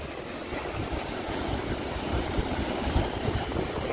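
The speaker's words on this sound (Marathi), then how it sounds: "बघा समुद्र." Sea waves roll in at Arnala beach as a continuous broad surf wash mixed with wind buffeting on the microphone, steady and moderately loud with no talk.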